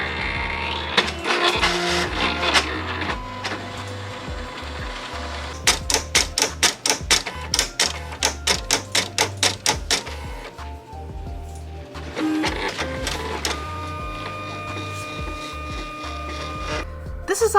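A Silhouette cutting machine works through a sticker sheet with whirring motor runs and rapid, rhythmic clicking and ticking bursts, pausing and restarting in sections, close and clear.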